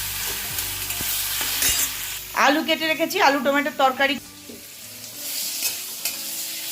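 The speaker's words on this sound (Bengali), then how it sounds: "এখানে একটু কাঁকরোল ভাজা করে নিচ্ছি" Spiny gourd (kakrol) frying and being stirred in a pan, a steady sizzle with scraping stirs running throughout, while a voice talks over it in the middle.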